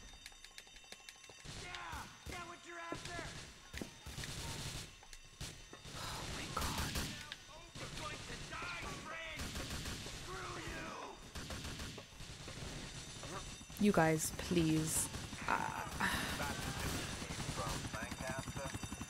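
Gunfire from the video game GTA IV: The Ballad of Gay Tony crackles in bursts through the scene, mixed with game noise and a player talking over it.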